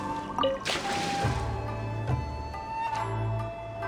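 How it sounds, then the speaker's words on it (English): Tree watering in the Genshin Impact video game, heard as watery drips and splashes over layered game music and tonal effects, with no talk. "we should water the trees"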